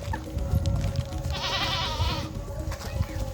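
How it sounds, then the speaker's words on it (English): A brown goat in a remote African village gives one clear, wavering bleat near the middle, set against a low outdoor rumble and faint village background noise. "We have a brown goat."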